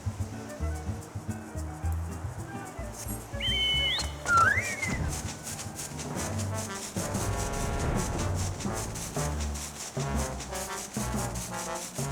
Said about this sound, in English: Remember the signal, whistle at the forked road.